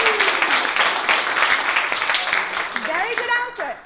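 Audience applause at a Harvard Extension keynote event, a dense, continuous wash of clapping from a crowd, fairly loud and steady, with voices calling out and cheering over it toward the end.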